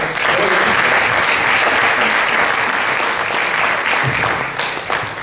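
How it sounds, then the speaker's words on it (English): A conference audience gives a sustained round of applause for a criminal justice policy panel, thick and continuous clapping from a large crowd that stays loud the whole time and tapers slightly at the end. "let's give them a round of applause"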